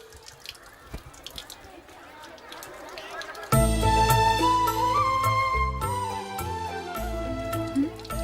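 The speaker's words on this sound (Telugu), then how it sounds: "ట్యాప్ పాడైపోయింది. నీళ్లు చూడు ఎలా వేస్ట్ అయిపోతున్నాయో." Water from a broken, leaking tap runs and drips, a faint trickle at first, then swamped by loud music with sustained tones.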